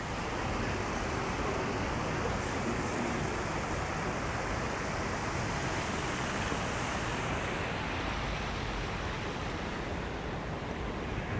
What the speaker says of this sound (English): I love walking around, listening to the water, and seeing the beautiful colors.